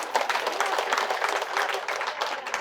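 An audience at a spiritual talk claps loudly and continuously, a busy wash of many hands at a steady level throughout.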